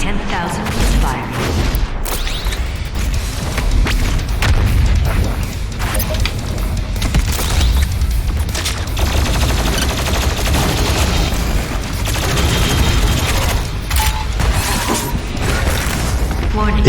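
The BFG 10,000 firing in DOOM Eternal, a dense and loud wall of booming blasts and rumbling mechanical bursts that keeps going without a break, with a voice heard now and then beneath the barrage.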